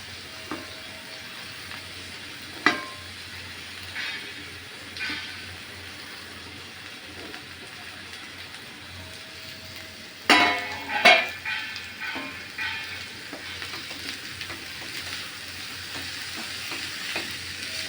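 Bitter gourd hitting hot oil with green chillies in a pan, a steady frying sizzle with a loud burst of crackling and spoon clatter midway, then continuous hissing.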